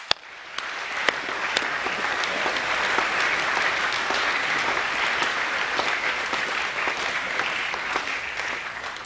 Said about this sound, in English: give Mr. Reddy a round of applause